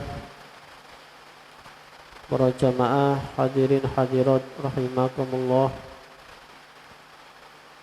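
Rain falls steadily as a soft, constant hiss behind a man giving a religious talk, continuing under his voice throughout.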